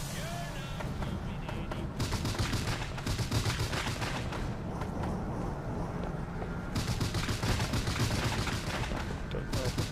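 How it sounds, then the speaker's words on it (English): Fireworks going off in the video game Bioshock Infinite, a dense, rapid barrage of crackling bangs and pops in two long bursts with a brief lull between, loud and close, with someone talking faintly underneath. "Oh, I can set off fireworks."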